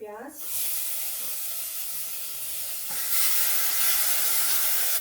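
Bay leaf and cumin hit hot oil in a pan, releasing a bright, steady hiss of sizzling that swells louder partway through, close and continuous, with a brief voice at the start.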